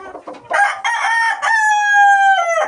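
A rooster crows loudly and close by, a drawn-out ringing call that rises and then trails off, with a few short clucks before it.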